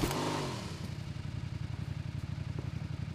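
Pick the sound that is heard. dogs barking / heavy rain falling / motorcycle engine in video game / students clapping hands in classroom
motorcycle engine in video game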